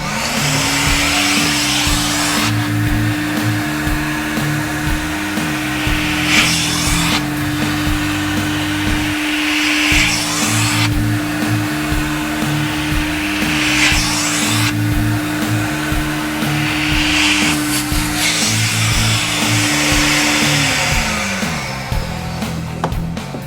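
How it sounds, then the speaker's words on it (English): Steady loud wet-vac suction whine with a constant motor drone, broken by rhythmic shifts as the nozzle passes across soaked carpet, no voices. "continue making passes using only the vacuum"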